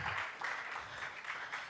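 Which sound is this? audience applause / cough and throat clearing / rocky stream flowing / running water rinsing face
audience applause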